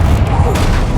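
A Confringo blasting spell detonates in Hogwarts Legacy, a dense, booming explosion that fills the whole second with loud low rumble and crackling debris, with voice-like sound mixed into the blast.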